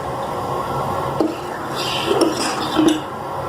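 Soft, wet stirring in a pot with a few clinks of a utensil against the side, close and fairly quiet.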